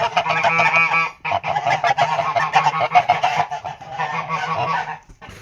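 A goose honks loudly and repeatedly in harsh, near bursts while defending its females at the nest, with only a brief pause around the one-second mark.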